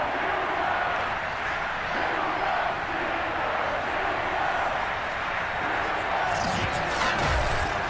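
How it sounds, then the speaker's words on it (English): A sold-out stadium crowd at Heinz Field in a Madden 22 simulated Steelers game roars as a continuous, dense wall of cheering, with a sharp burst of shrill whistles and noise near the end. "Big Ben Roethlisberger greeted by this sold-out Heinz Field crowd."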